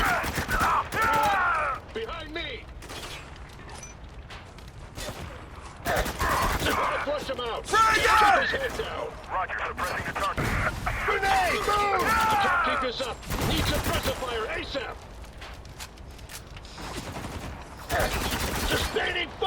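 Rapid bursts of automatic gunfire and explosions fill a chaotic firefight in the shooter game Spec Ops: The Line, with shouted voices breaking through the dense, continuous racket.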